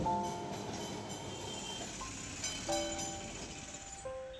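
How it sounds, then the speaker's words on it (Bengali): A Kolkata tram rolls along on the Esplanade–Shyambazar route back toward Dharmatala, a moderate rumble of wheels on rails with tonal squeals and ringing bell-like tones rising and falling over a few seconds. "ফের টুংটাং ট্রাম ফিরে চলল ধর্মতলার দিকে"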